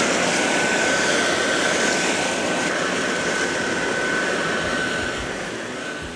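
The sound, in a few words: STIHL BRA 600 battery backpack blower running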